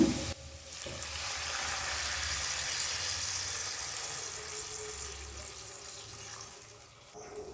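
Water poured into a hot pan for cooking Maggi noodles, a steady hissing gush and sizzle lasting several seconds and tapering off near the end.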